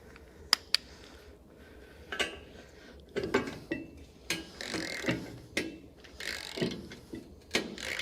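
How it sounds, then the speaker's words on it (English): A torque wrench is worked by hand to tighten the top nut on a double-pivot fifth wheel hitch for a flat-deck ball mount. Close, irregular ratcheting clicks and metallic clacks come in short bursts with brief pauses, and no one speaks. "We're going to tighten our nut on top. This is tightened to 30 foot-pounds."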